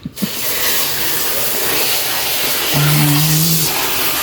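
Water sprayed from a hose to clean a Honda Beat scooter, a loud steady hiss after a couple of brief knocks, briefly joined by a higher tonal whine near the end.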